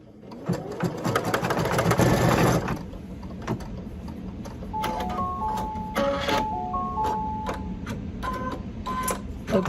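An embroidery machine stitches an appliqué mouth and eyelashes, starting with a loud dense whirring burst and then settling into steady mechanical stitching with intermittent beeps and clicks.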